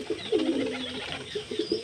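Pigeons coo close by in a short run of soft, throaty, repeated calls, with no talk.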